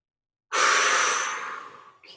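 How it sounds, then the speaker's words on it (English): A single long, deep inhale during a yoga Prana/Apana breathing meditation class, close and fairly loud, swelling quickly and tapering over about a second and a half before a brief second breath begins. "Inhale, gather, gather, gather, gather."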